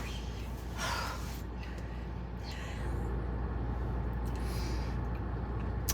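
Someone does breathing exercises while sitting in a car, producing repeated gasping, snorting breaths in short bursts close to the microphone over a steady background hum.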